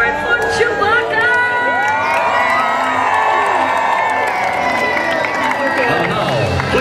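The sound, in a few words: crowd cheering and applauding for Chewbacca at parade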